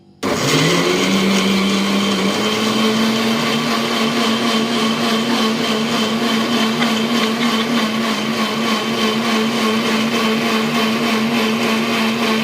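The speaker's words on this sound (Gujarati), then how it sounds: "મિક્સર થાય છે ભાઈ." A mixer grinder starts up and runs loudly and steadily, a high motor whine droning without pause, while making pani puri water.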